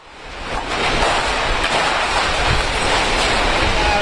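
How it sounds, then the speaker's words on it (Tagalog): Strong super typhoon wind in Tacloban, a loud, continuous roar with gusting rumble and surf-like hiss that swells in during the first second and then stays steady, with no voices. "Napakalakas na ng hangin pero hindi pa po tumatama ang sentro ng bagyo dito sa bahagi ng Tacloban."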